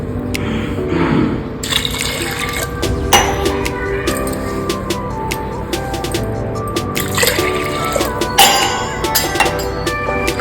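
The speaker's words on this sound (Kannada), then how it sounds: "ಈಗ ಇದಕ್ಕೆ ನೀರು ಸೇರಿಸ್ಕೊಂಬಿಡೋಣ." Water pours steadily into a vessel of washed lentils and vegetables in a home kitchen, a continuous splashing, trickling fill with scattered clinks, close and fairly loud throughout.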